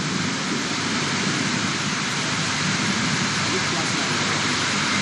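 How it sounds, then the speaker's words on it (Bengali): A heavy storm with driving rain near Nabanna in Howrah makes a dense, loud, unbroken roar of hiss, with a faint voice underneath. "ব্যাপক ঝড় সঙ্গে বৃষ্টি"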